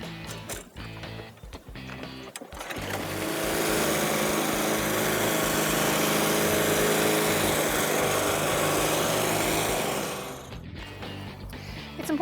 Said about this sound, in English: It's important after you mow the lawn to make sure that you rake up all the extra grass and clippings.